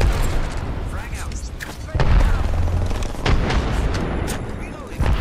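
A frag grenade goes off amid a chaotic Apex Legends firefight, a heavy boom landing among repeated sharp gunshots and blasts, loud and dense, with a voice speaking briefly over the din.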